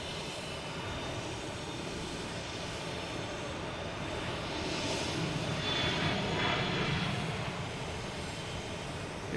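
Delta Embraer E175 jet at Boston Logan Airport, a steady broadband engine roar heard from a distance with a slight swell partway through, no talking.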